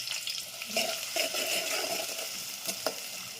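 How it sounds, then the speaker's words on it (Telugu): Chopped onions dropped into hot oil for a mutton paya, crackling in a steady broadband sizzle with a few sharper stirring scrapes, close and moderately loud, no voices. "నూనె కాగింది, వేసేసుకుందాం"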